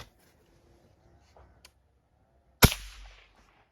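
A single sharp shot from a Chaika 14 air rifle at supersonic speed cracks loudly after a quiet stretch, followed by a brief fading ring.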